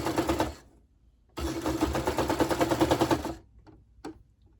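A sewing machine stitches a T-shirt neckband in two fast rattling bursts, a short run then a longer one, each followed by quiet and a few faint clicks.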